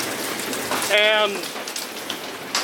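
Steady rain pours down during a storm that brought a small tornado over a property, a dense hiss throughout with a brief spoken word in the middle.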